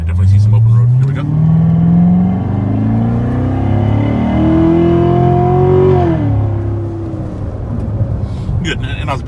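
A 2015 Chevrolet Corvette accelerates on an open road, its engine note rising steadily through the gears, easing and climbing again before settling; the engine is loud and close, and a person talks over it.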